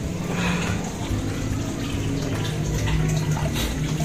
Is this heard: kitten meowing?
no